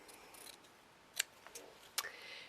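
Scissors snip in a small craft workspace where a miniature kitchen unit is being built, giving a few faint, sharp cuts spaced apart in a quiet room.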